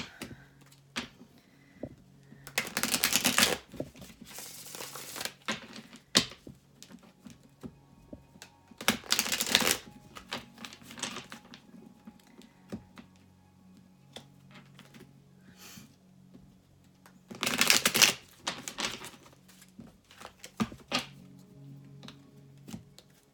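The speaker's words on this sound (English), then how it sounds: "I'll do a couple of shuffles here for Capricorn." Several bursts of tarot card shuffling, riffling and flapping in short rapid runs with quiet handling noises between them, close and fairly soft.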